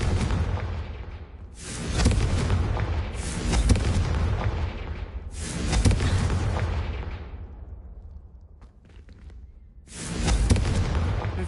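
Confringo fire spell cast repeatedly in the video game Hogwarts Legacy, giving loud booming blasts in three or four bursts that each fade into a rumbling tail, with no talking.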